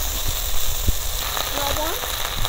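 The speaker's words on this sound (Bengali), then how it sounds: "পেঁয়াজ আর কাঁচা লঙ্কা হালকা করে একটু ভেজে নিয়েছি। এবার দিয়ে দেবো সবজি," Vegetables going into lightly fried onion and green chilli, a steady pan sizzle with an occasional thump, and a voice talking over it.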